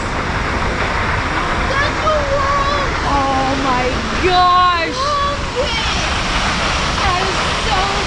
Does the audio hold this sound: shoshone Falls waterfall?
yes